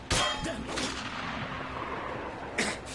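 A sniper's gunshot in a video game cutscene, with a sharp crack at the start, faint echoing reports, and a second shot near the end, all over a low ambient hum.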